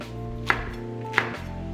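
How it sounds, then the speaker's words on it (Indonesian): Knife chopping galangal, ginger and chili on a cutting board, two crisp single chops about 0.7 seconds apart over a steady low background hum, close and fairly clear. "Ada lengkuas, jahe, lalu untuk cabenya juga sama, kita potong-potong."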